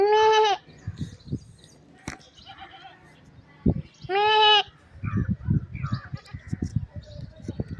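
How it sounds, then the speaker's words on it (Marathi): A goat bleats loudly twice, close by, with quieter rustling, scuffling and a few faint bird-like sounds in between. "ते बकरी बोलते बघ"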